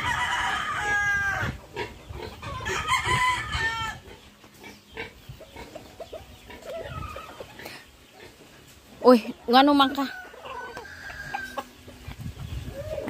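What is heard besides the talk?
chickens clucking and crowing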